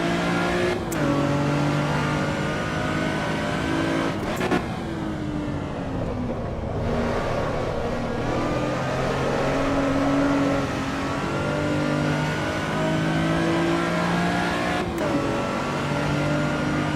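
Race car engine in Assetto Corsa EVO holds a steady loud drone with rising and falling harmonic sweeps as it revs through gears, punctuated by a few sharp shift blips, continuous and close throughout.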